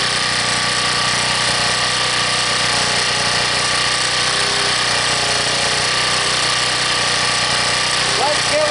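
A Harbor Freight generator engine running steadily once warmed up and off choke, a loud, close, even mechanical drone with a rattling buzz and no hunting in speed.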